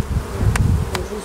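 Honeybees buzz loudly and close at a hive frame bearing queen cells, a dense continuous drone with a couple of sharp clicks or taps cutting through, and no voices.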